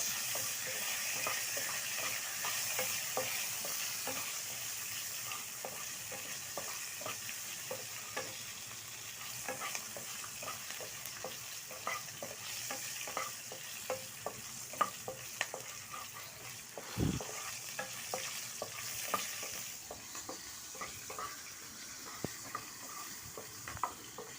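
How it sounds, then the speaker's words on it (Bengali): Green and dried chillies fry in oil in a pan for a Bengali katla fish dish. A steady crackle of small pops runs throughout, with one dull knock partway through and no voices. "কাঁচামরিচ, শুকনো মরিচ, দিয়ে এগুলোকে ভেজে নেব"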